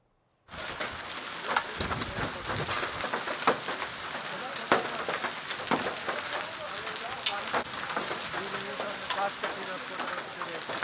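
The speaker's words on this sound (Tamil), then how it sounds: "பல இடங்களில் சூறைக்காற்றுடன் கனமழையும் வெளுத்து வாங்கியது" Heavy rain pours down during a dust storm with gale-force winds in Delhi, a loud, dense, continuous roar with sharp crackling bursts throughout and no voices.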